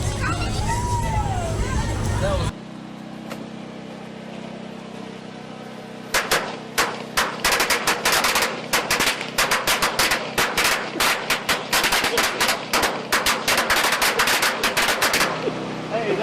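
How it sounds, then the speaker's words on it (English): Firecrackers and fireworks go off in a campsite fire pit, a dense rapid string of sharp loud bangs that crackles on for about ten seconds after a short quieter lead-in with voices. "there's nothing better around a drunken campsite than blowing stuff up in the fire pit and playing with fireworks"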